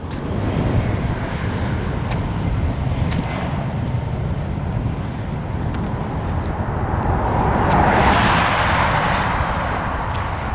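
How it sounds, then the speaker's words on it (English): A jet airplane passes low overhead on approach into LAX, a broad roar that swells near the end over steady outdoor traffic and footsteps during a long walk, with no talking. "watch the airplanes fly right above my head into the airport"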